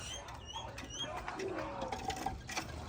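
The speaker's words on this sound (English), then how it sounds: "Calm down, birds." Birds call outdoors beside an RV being fitted with new steel-sidewall tires, a cluster of short chirps and coos over steady background noise, with no talking.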